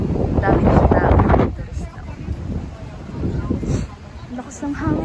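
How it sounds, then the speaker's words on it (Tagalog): Gusty wind buffets the microphone in loud rumbling bursts in crowded Valletta, Malta, while a person talks over it. "At ang lakas nga ng hangin."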